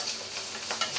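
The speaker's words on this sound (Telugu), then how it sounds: "కరివేపాకు ఇవన్నీ వేసాను" Curry leaves frying in hot oil in a pan for chicken curry, a dense, steady crackling sizzle with brief sharper pops, close and continuous.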